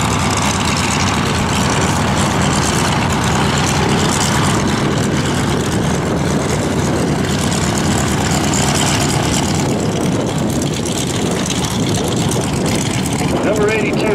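Radial engine of a vintage World War II primary trainer aircraft, a PT-19 type, running loud and steady as it taxis down the flight line at an airshow, with a public-address announcer talking over it.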